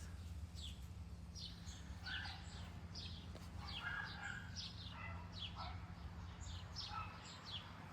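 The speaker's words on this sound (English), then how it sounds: "There's lots of birds out here today, so they're listening to the chirping." Faint birds chirping outdoors, many quick high calls scattered across a low steady rumble of open-air background.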